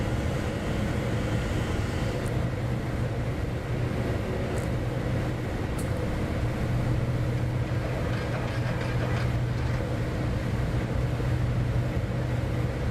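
A Cessna Citation X jet in an Xbox flight simulator gives a steady, dense engine roar that holds loud and even throughout, with a few faint clicks over it.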